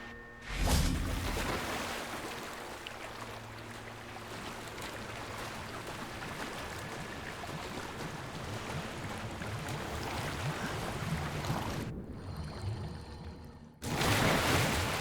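Underwater swimming and diving in the Hogwarts Legacy video game, a steady muffled wash and bubbling of water, bracketed by louder splashes at the start and end.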